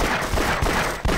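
Rapid bursts of gunfire in Half-Life during a station skirmish, loud overlapping shots in quick succession with no pause.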